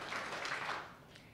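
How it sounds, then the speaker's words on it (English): Students at a school leadership summit clap in unison, a few quick, soft claps from a group heard at a distance, fading out toward the end. "If you can hear my voice, clap three times."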